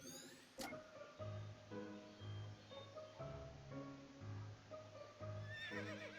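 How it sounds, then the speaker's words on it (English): A horse neighs repeatedly in a video game, its whinnies rising over a steady game soundscape with faint hoof clops, close and fairly loud throughout. "Oh look, there's a horse."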